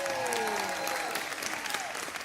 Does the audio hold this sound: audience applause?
yes